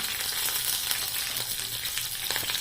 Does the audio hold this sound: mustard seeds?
yes